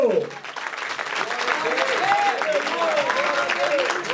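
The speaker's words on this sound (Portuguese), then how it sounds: "Você pode aplaudir a Jesus por isso?" A church congregation applauds during a Portuguese-language worship service, steady dense clapping sustained throughout, with a preacher's voice and sung or shouted tones rising over it.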